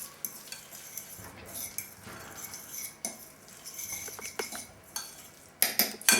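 Sardines in oil being mashed and mixed into a filling with metal utensils, giving repeated close clinks and scrapes against a bowl in an uneven rhythm, growing louder and busier toward the end.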